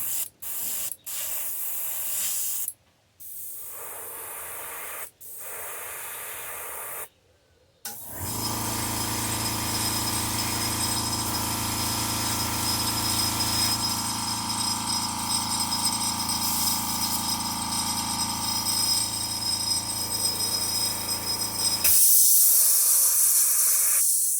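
An airbrush sprays paint to touch up fishing baits, a steady loud hiss running continuously for about fourteen seconds after a few short, broken spurts of spray.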